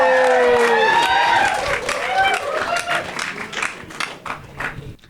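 Audience clapping and cheering in a studio show as a guest is called up, a loud burst that thins and fades, with voices talking over it.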